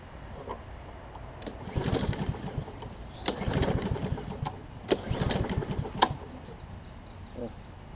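A Troy-Bilt self-propelled lawn mower with a Briggs engine is pull-started, with several sharp cord pulls and brief engine bursts that sputter rather than settling into a run, heard close up amid outdoor noise.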